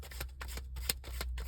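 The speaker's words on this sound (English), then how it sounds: "I'm just going to shuffle one last time on this deck" A tarot card deck is shuffled by hand in a rapid series of soft riffling bursts, close and fairly quiet, with no talking.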